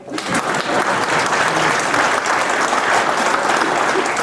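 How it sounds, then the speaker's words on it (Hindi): Loud, sustained audience applause in a lecture hall at a talk on Swami Vivekananda's message, dense clapping from many hands starting abruptly and continuing steadily. "ताली नहीं बजाएंगे आप?"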